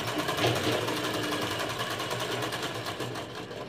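A sewing machine runs steadily, laying a double line of stitches along both edges of a wide lace strip on a blouse, its close, even rapid whirr continuing without pause.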